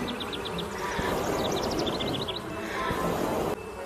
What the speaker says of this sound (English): The bees buzzed and buzzed.